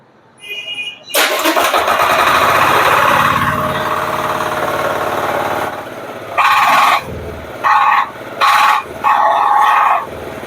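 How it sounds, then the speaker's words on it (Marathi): A 12 HP power weeder engine sputters to life after a brief hand-crank start, then runs with a loud steady chugging drone, revving in short bursts near the end. "मी सोडतो लगेच मशीन चालू होईल"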